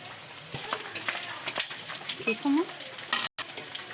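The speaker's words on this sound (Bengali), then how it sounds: "আমি অল্প ভাজা ভাজা করে আদা দিয়ে দিব" Ginger frying in oil in a village kitchen gives a steady sizzle with scraping stirs and brief utensil clinks, loud and close, with a short break near the end.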